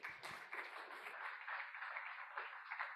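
Audience applause rises at an investor presentation in Perth, a soft, distant patter of many hands clapping steadily for a few seconds.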